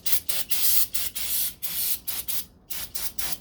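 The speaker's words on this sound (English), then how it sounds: "We'll start by spraying this brake cleaner" Brake cleaner sprayed from an aerosol can onto door parts of a 1969 C3 Corvette, a series of close, loud hissing bursts of varying length separated by short pauses.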